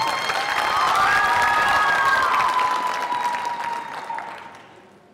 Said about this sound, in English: Let's give Autumn a big round of applause.